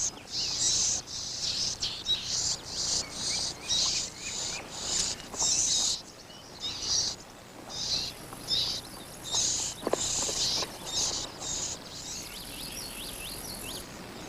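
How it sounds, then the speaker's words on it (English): A male warbler sings in shrubland with cottonwoods, repeating bright high phrases in a steady series against a constant insect hum, clear and fairly near with no voices. "the male warbler sings from the branches of a 40-year-old cottonwood"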